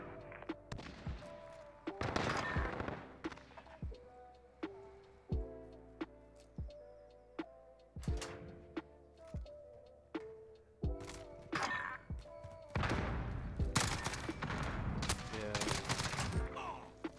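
Gunfire from a UAV in a video game rattles out in repeated rapid bursts and sharp cracks, riding over a steady tonal drone, loud and fairly close throughout.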